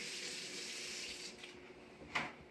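Hot water runs steadily from a kitchen tap while hands are washed during cooking. The stream is a soft, continuous hiss that changes near the end with a brief splash.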